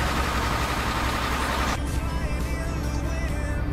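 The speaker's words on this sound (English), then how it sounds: "The truck sounds like crap, like it's gonna explode at any second." A truck engine in the Euro Truck Simulator 2 video game, a rough, continuous mechanical drone that runs the whole time, with a shift in tone partway through and a whine on top afterward.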